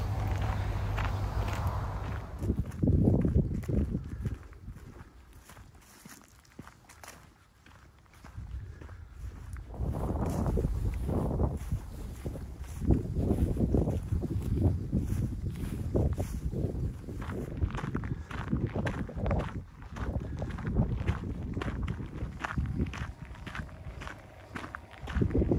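Footsteps of a walker crossing open countryside in the Vale of Mowbray on a coast-to-coast hike, a steady rhythm of close crunching steps with light wind noise, continuing for much of the stretch.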